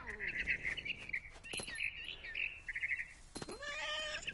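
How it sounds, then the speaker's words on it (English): A barn swallow chirps in a video game scene, a lively string of high twittering calls close by, then a cat-like meow near the end. "Then I heard chirping outside my window. It was a barn swallow going back to her nest."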